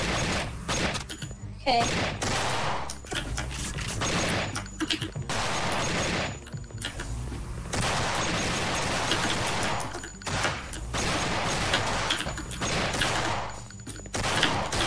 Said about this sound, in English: Alright, we have a machine gun.